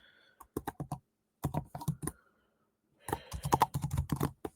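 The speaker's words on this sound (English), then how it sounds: "I'm just typing in last names now." Quick bursts of typing on a computer keyboard, clustered clicks in three runs separated by short pauses, close and fairly quiet.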